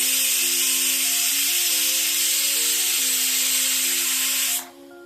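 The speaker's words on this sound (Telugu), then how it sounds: "కుక్కర్లో ఉన్న ఆవిరి మొత్తం పోయేంత వరకు కుక్కర్ని పక్కన పెట్టేసి" A pressure cooker used for chicken curry releases steam in a loud, steady, close hiss with a faint whistling tone underneath, holding for several seconds before abruptly dropping to a quieter residual hiss, with no talking.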